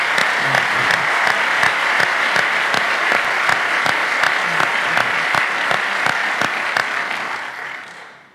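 Sustained audience applause at a morning PrezFest 2019 event, steady and dense throughout, tapering off at the end with no talk over it.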